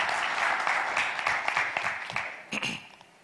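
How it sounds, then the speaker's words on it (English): An audience at an insurtech pitch event applauds the evening's final pitch, a lively round of clapping that swells and then gradually tapers off, with a few sharper claps near the end. "A warm round of applause."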